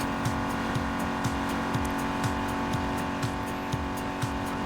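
A car driving in Fortnite, a steady loud engine drone with a humming tonal whine, punctuated by regular soft thumps of the vehicle rolling over bumps, continuous and close with no talk.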